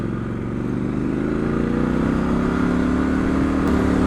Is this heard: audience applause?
no